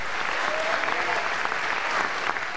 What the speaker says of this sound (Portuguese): Isso aí é para Jesus que você está dando essas palmas, amém?